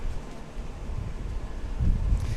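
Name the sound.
wind during windsurfing wave contest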